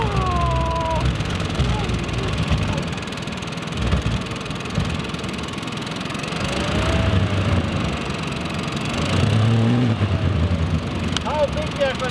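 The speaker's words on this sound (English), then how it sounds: "we are going to use the leaf blower to do that also" A leaf blower runs steadily, filling a giant inflatable ball outdoors, its continuous motor roar loud and close throughout, with people talking briefly over it.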